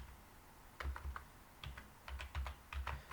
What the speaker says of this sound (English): and then type your file name.